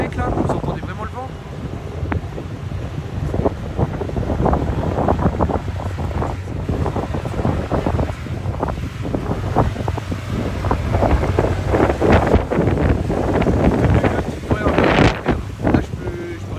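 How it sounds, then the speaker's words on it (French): At an elevated spot at Daikoku, Japan, heavy gusts buffet the camera microphone in a continuous low, blustery rumble that swells and dips, with someone speaking over the noise. "vous entendez vraiment le vent?"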